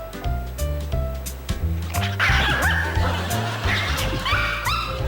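A small puppy gives a few short barks and yips mixed with higher whimpering whines, close by, over a steady background of music.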